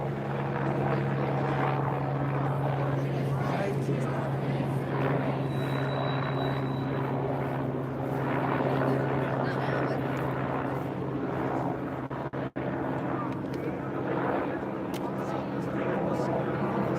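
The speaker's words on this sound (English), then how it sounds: "they're watching us with a drone." A surveillance drone hovers overhead at a religious service outside the Broadview detention facility, its steady droning engine hum continuous and fairly loud throughout.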